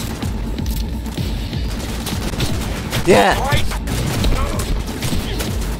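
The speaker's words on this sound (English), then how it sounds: "I'm gonna need you to fucking stop shooting at me" Rapid gunfire bursts from the Cyberpunk 2077 video game crackle under continuous game noise and a voice, with one sharper burst standing out midway.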